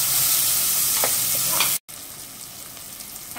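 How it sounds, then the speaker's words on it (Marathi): Chopped onion frying in oil after garlic has browned, a close steady sizzle with light stirring scrapes, briefly cut off before resuming more quietly. "आता यामध्ये मी कांदा घालते, कांदा पण चांगला शिजून घ्यायचा आहे तेलामध्ये"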